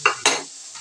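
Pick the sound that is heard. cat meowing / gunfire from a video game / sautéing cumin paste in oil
sautéing cumin paste in oil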